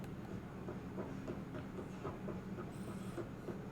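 A tram in the sci-fi video game Mass Effect: Andromeda, heard as a steady low rumble with a soft rhythmic clatter, like a rail car rolling along, faint and continuous with no voices over it.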